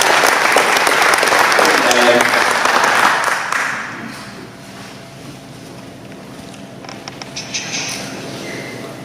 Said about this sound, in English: let's give her another round of applause for that